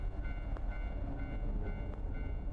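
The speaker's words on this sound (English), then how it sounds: "Like somebody went on a very spooky train there." A train in a video game rumbles past, a low continuous rolling drone with sharp periodic clanks and rattles over a short stretch, fairly close and without voices.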